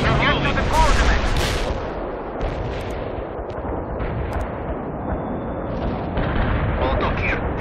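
Artillery fire in the World in Conflict: Soviet Assault video game, a steady barrage of booming blasts and crackling gunfire with dense battle noise throughout, loudest early on, with a radio-style voice heard over it.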